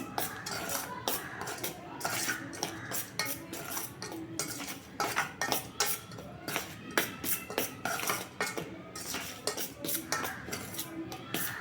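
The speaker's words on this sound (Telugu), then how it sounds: "బాగా కలిసేటట్టు మిక్స్ చేసుకోవాలి" A spoon scrapes and clacks rhythmically against a bowl while mixing thick cauliflower pakoda batter, repeated close-up strokes with no talking.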